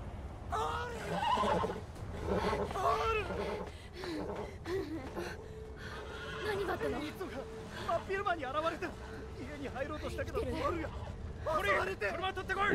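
Horse neighing in the video game Beyond Two Souls, whinnies rising over game sounds and a talking voice across the stretch, with a few breathy gasps and faint hoof clops.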